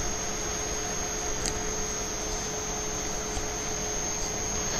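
The motor, heaters and blower of a rotary dryer run together as a steady mains-like hum with constant broadband air noise and a faint high tone, unchanging throughout.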